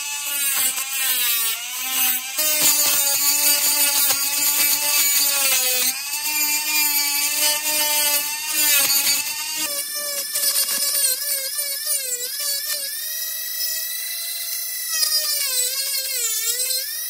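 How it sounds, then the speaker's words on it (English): A small high-speed rotary drill bores holes into a carved wooden fishing lure, giving a continuous shrill whine that wavers in pitch as the bit bites and eases, loud and close with no talk. "Time to drill these with a lot of concentration."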